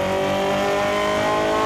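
Formula 1 race car lapping the Losail International Circuit in a racing video game, its engine a steady, loud high-pitched whine with layered harmonics, held at constant revs as it drives through a fast corner, no talk.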